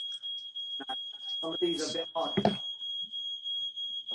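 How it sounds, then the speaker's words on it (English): A fire alarm sounds a continuous high-pitched electronic tone, steady throughout, while a person talks over it. "the fire alarm."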